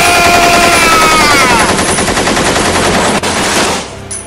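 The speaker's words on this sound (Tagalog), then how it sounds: "Baba ni ti machine gun!" Loud, continuous machine gun fire in a rapid, dense stream of shots with no pauses, fading out near the end.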